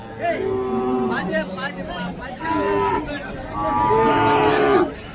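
Cattle at the Kundarapalli Friday cattle market in Krishnagiri district low in three drawn-out moos, loud and close, over faint crowd murmur.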